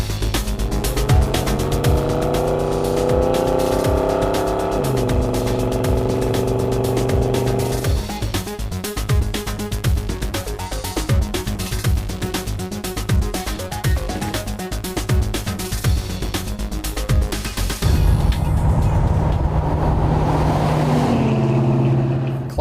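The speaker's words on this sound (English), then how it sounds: "Climbing the hills back here, it needs enough throttle that it's actually pinging a little." A Ford Ranchero's engine labors under steady throttle climbing hills, a loud continuous drone with shifting tone and a slight pinging from detonation, rising and changing pitch as the load varies.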